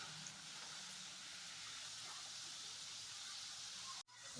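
Grated potato frying in hot oil for a fasting-day potato dish gives a steady, dense sizzle that barely changes, with a brief dip near the end.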